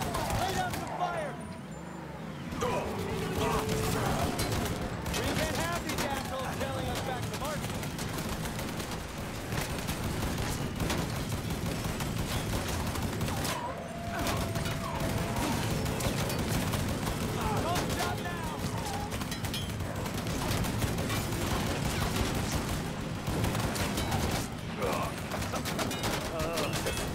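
Sustained gunfire crackles in the video game Mafia 3 Definitive Edition, dense rapid bursts of shots and explosions filling a long stretch, with voices shouting over the combat.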